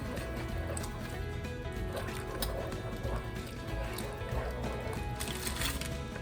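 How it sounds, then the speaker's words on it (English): Turkey chili being stirred in a pot, a continuous thick wet churning and squelching with scraping bursts throughout, close and steady, with no voice over it. "Stir this up."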